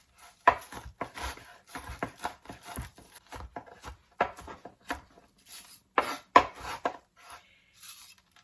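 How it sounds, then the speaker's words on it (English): Knife roughly chopping dried onions from last year's crop on a board: irregular crisp chops and thuds, close and moderately quiet, with short pauses between bursts. "These are dried onions from last year's crop. And so I'm just going to give these a rough chop."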